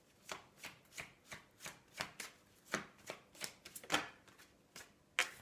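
Tarot cards shuffled and laid down in a quiet room, a steady series of soft papery slaps and riffles at an even rhythm, close and fairly faint, with no voices.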